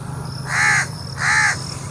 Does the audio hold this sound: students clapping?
no